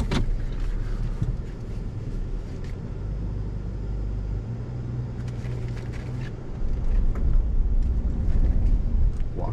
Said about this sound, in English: let's go ahead and drive out of it